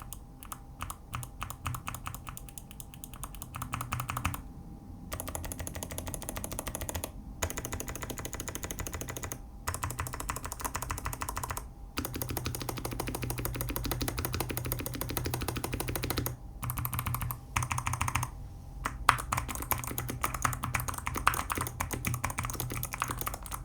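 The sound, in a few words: clicky mechanical keyboard switches typing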